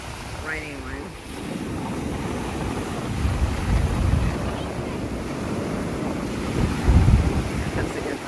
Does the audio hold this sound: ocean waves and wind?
yes